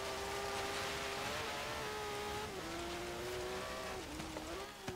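A 2004 Porsche 911 GT3 engine in the video game Forza Horizon 3, on the Blizzard Peak hill climb, holds a loud, steady high-revving whine, dipping briefly at two gear shifts before climbing again, with no talking.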